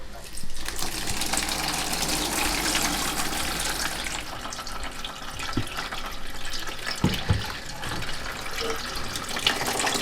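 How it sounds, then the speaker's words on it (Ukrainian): Cherry mash for homemade cherry wine is poured and strained through gauze, giving a steady close splashing, trickling flow of liquid that runs throughout, with a few soft knocks toward the end. "Ось добре перемішуємо і виливаємо їх через марлю."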